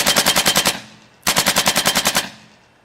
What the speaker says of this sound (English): That means one pull of the trigger is going to allow you to shoot in full auto